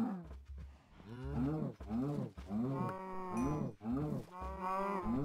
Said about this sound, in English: I just realized we have cows.